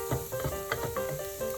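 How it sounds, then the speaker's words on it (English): Chopped carrots and red onion sizzling in a pan, a bright crackling fry broken by several quick clattering stirs at close range, no talk. "This is my chopped carrots that I just tossed in."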